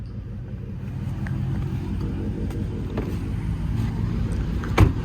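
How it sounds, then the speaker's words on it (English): Dodge Charger Scat Pack idling with a deep, steady exhaust rumble, moderate in loudness and unbroken, with a brief louder thump near the end and no talking over it. "Car really sounds incredible. Nice deep sound, not too loud, not too obnoxious, but just right."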